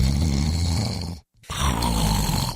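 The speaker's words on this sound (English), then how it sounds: "What if you could stop the snoring instantly without nose strips, mouth guards, or a procedure?" A person snores loudly and close by, giving two heavy rasping breaths split by a brief silent pause, with no talking.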